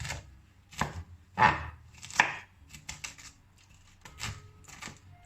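A knife chops cauliflower finely on a board for cauliflower manti, with a series of close, crisp, uneven chops and short pauses between strokes.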